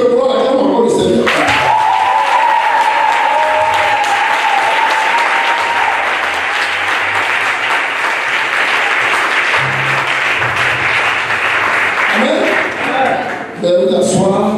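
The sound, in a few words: congregation applauding the Lord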